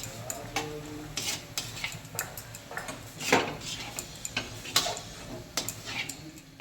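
Rice flour being mixed into hot water in a pot, with scattered clinks and scraping ticks of the spoon against the vessel over a low steady background, fairly close and moderately quiet.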